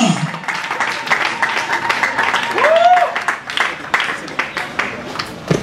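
Audience applause and cheering fill a live stage show, a dense steady wash of clapping and crowd voices sustained throughout at moderate loudness.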